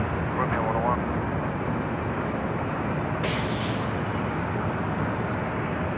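Airliner arriving from Seoul at Los Angeles LAX airport, a steady broadband jet roar filling the scene throughout, with faint radio-style chatter near the start and a brief hiss partway through.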